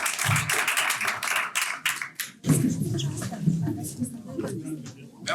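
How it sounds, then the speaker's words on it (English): Applause rises at a Geneva security debate, a dense patter of many hands that fades as a voice begins speaking over it. "one more round of applause"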